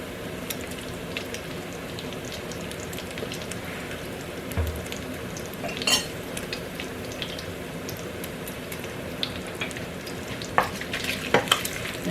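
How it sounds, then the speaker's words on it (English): Bacon fries in sunflower oil with a soft, continuous sizzle dotted with scattered small pops and crackles, moderately quiet and without speech. "now to my bacon, I'm going to add 3 tablespoons"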